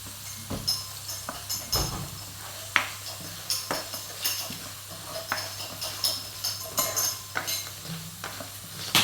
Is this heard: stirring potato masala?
yes